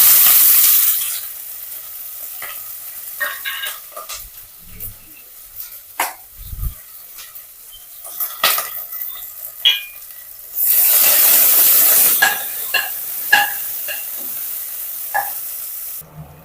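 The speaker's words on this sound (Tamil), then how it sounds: "நான் பெரிய வெங்காயம் நீட்டு வாக்கில் கட் பண்ணி வச்சுருக்கேங்க இதை சேர்த்துக்கலாம்" Sliced big onions and whole spices fry in hot oil for mushroom biryani, a loud steady sizzle that fades, comes back in a strong burst, and is broken by clinks and stirring.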